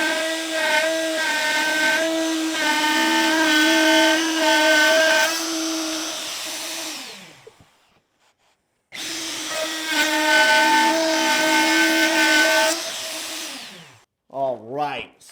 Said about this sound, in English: where I want the router bit to contact the edge of the piece to the edge of the track here